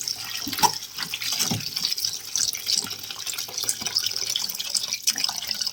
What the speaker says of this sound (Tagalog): So, babad natin ng konti muna sa tubig.